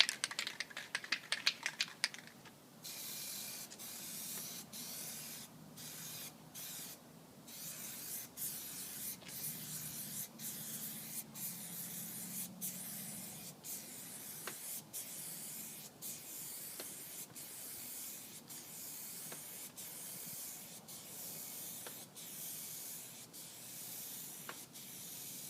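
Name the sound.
spray can applying Plasti Dip coats to car stripes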